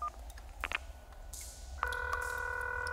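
A payphone in the video game Concluse gives a few quick dialing beeps and then a steady electronic ringing tone that carries on to the end. No one speaks.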